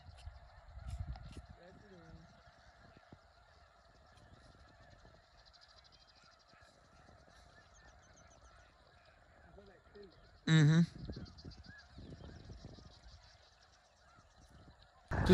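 Geese, specklebelly geese among them, honking overhead in flight during a hunt, repeated calls scattered through the clip, mostly faint with one loud burst near the end, and a brief murmured voice.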